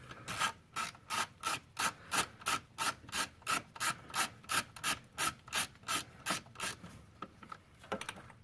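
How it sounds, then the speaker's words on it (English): A small ratcheting wrench turning a fastener near the EGR vacuum solenoid on a 2001 Ford Escape, about twenty rhythmic, evenly spaced clicking ratchet strokes, close and clear, slowing and thinning toward the end. "So just going to use a little ratcheting wrench here."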